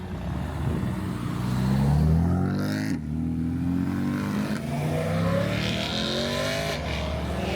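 A BMW M5 E39 pulls away from the Nürburgring, its engine revving up through rising gear pulls with a deep, throaty exhaust note, close and loud against other traffic.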